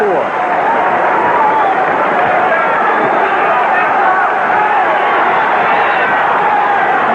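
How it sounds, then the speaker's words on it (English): A basketball crowd in the New Orleans Superdome during a 1978 NBA game between the Jazz and Pistons, a loud steady roar of cheering and noise filling the arena throughout. "And the Superdome crowd coming to life once again."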